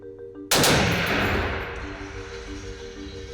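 A WWII-era anti-aircraft gun opens up with a sudden loud blast, followed by sustained rapid firing and rumbling that fades slightly but keeps going to the end, close and dominant.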